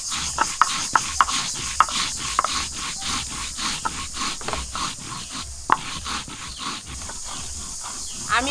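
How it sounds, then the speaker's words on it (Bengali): Cumin seeds are ground into paste by hand on a stone, making a steady back-and-forth rubbing and grating rhythm up close with occasional sharper knocks and faint outdoor background noise. "জিরে বেটে নেব।"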